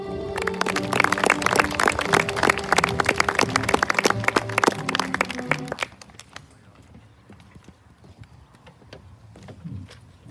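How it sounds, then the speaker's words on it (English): Audience at a 2024 graduation ceremony gives a loud, dense round of applause for the graduates that runs for about six seconds and then cuts off abruptly, leaving a quiet, hushed room. "How about one more big round of applause for our graduates?"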